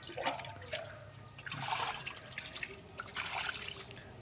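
Food being washed under a running kitchen tap, with water gushing and splashing close by in uneven surges as it is rinsed by hand, and no speech.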